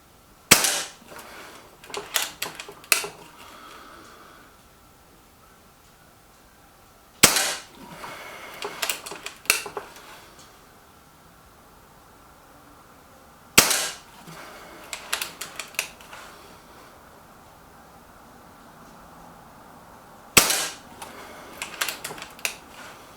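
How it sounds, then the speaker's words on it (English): An Air Arms air rifle fires at a target, four sharp loud cracks spaced several seconds apart, each followed by a cluster of mechanical clicks and clatter as the rifle is reloaded. "10 shots with the air arms into the right hand target"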